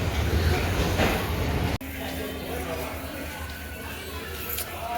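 A train rumbles steadily through a busy railway station, a continuous close low roar with a brief sharp break partway, while people talk in the background throughout.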